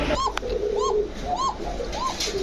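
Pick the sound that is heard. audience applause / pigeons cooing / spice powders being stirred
pigeons cooing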